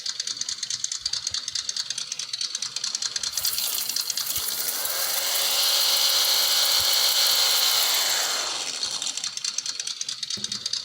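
A model vehicle's motor, axles and drive shafts run on a hobby desk, a close whirring drone that swells louder in the middle and then fades back down, with no talk over it.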